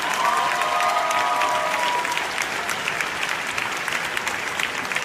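A room of people at a farewell event in Chicago clap in a dense, sustained round of applause for community coalition groups, with a brief voice audible early on before the clapping tapers slightly.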